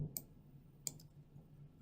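Two quiet, sharp computer mouse clicks, spaced under a second apart, against a near-silent background.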